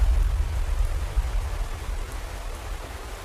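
Steady rain falls during the rainy season on the savanna, a dense continuous patter on the ground with a low rumbling undertone, heard alone without voices.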